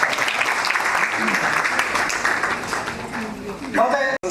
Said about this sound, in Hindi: आप सभी के लिए मैं चाहूंगा अपने लिए एक बार जोरदार ताली